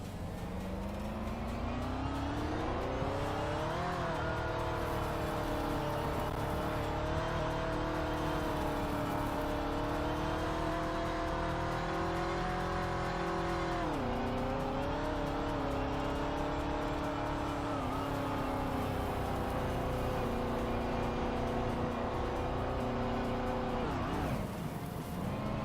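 A car engine in the game DayZ drones and revs continuously, pitch rising and falling through gear changes as the car drifts, with faint tire squeal under it, loud and close throughout.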